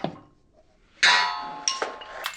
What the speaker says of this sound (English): Here's the little punch they give you in the kit to knock the tang off.